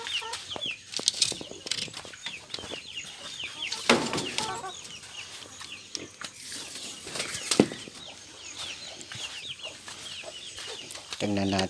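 Rhode Island Red chickens in a bamboo coop with an anahaw-leaf roof cluck and flap their wings nearby, scattered soft clucks and bursts of wing flutter continuing throughout, with faint talk in the background.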